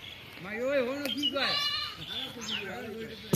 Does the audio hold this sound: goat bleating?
yes